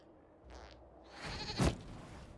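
A goat in the Dragon Age 3 video game lets out a couple of short bleats followed by a louder, harsher cry, close and clear against quiet game ambience.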